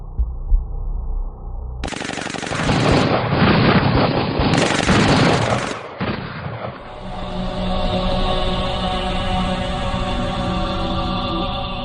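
A Mac-10 machine gun lets off a loud, rapid burst of automatic fire, a dense continuous rattle lasting a few seconds, followed by a sustained electronic hum and drone.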